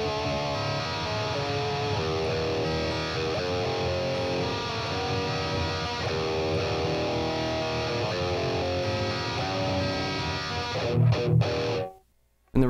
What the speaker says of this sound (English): I have this set up here with the modulate delay with the delay time on 12 milliseconds